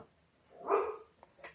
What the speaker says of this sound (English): What are you dogs doing?